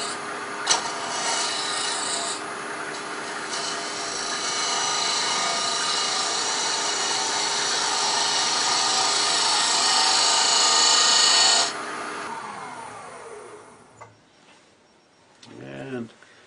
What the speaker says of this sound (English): I'm going to go ahead and use a scraper.